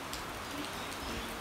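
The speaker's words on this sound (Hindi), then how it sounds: "सो गाइस इधर आप देख सकते हो मस्त गिर रही है बारिश।" Steady rain falls in sunlight outdoors, a continuous even hiss of drops on surfaces filling the whole stretch with no talk over it.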